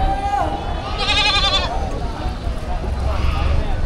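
Goats at a Padre Garcia, Batangas livestock market give a wavering bleat amid crowd noise, and a person talks nearby over a steady background bustle.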